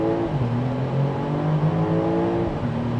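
A 2026 BMW X7 xDrive40i pulling hard from a standstill in sport mode, its engine note rising steadily through the rev range with a gear change near the end, heard from inside the cabin.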